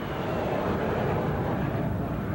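Navy fighter jets flying over the aircraft carrier USS Carl Vinson in 1988, including F-14s, a steady loud broadband jet roar that holds throughout with no speech over it.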